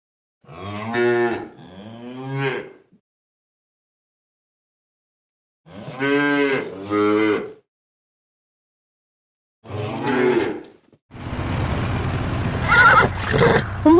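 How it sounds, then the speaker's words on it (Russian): A cow moos in long, deep, resonant calls, three separate lowing bouts with silence between, followed by a noisy burst resembling a horse's whinny and snorting at the end. "Корова"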